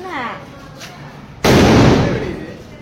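A Diwali firecracker goes off with one loud, sudden burst, and a broad roaring crackle then fades over about a second after a voice speaks just before.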